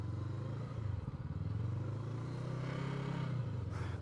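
Voge 500AC motorcycle, a 2021 model, idling with a steady low throbbing engine note and a rattling vibration, close up and continuous, rising slightly toward the end with no talk.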